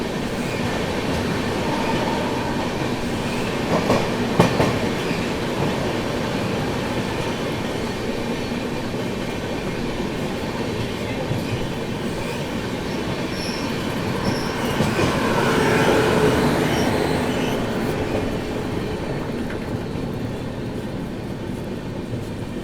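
Duronto Express passenger train from Delhi to Yeswanthpur running at about 120-125 km/h, a loud continuous roar of wheels and rails heard from onboard, with faint clicks and a brief rising squeal near the end.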